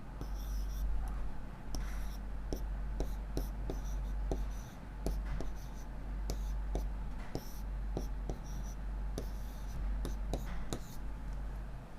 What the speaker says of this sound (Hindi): वो यहां लिख देते हैं।